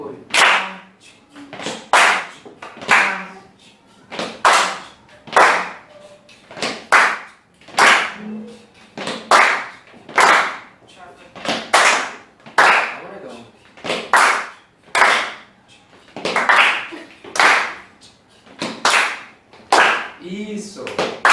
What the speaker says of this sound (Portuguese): Vamos fazer só essas palmas.